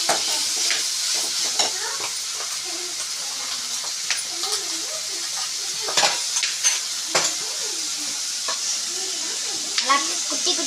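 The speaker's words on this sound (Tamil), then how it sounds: "கொஞ்சம் மிளகு சீரகம், கொஞ்சம் சோம்பு, முந்திரி கொஞ்சம், இது எல்லாத்தையும் போட்டு நல்லா சேர்க்கணும்" Pepper, cumin, fennel and cashews frying in a pan, giving a continuous bright hiss of oil with frequent scrapes and taps as the spices are stirred, close and steady.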